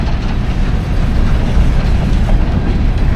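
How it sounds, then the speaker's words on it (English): A freight train rumbles past close by on a rail line in Loyall, Kentucky, a steady heavy roar of rolling wheels and rail noise with a faint clatter running through it. "this TVAX train's rolling in here now"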